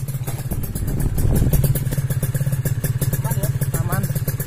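A Kawasaki Ninja RR two-stroke fitted with an aftermarket racing exhaust revs up nearby, its loud, rapid rasping pulses swelling and dropping with a blip of the throttle.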